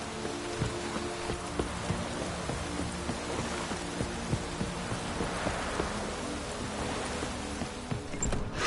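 Steady rain in the video game The Witcher 3 patters and hisses over a low rumble, with occasional soft thumps; no voices.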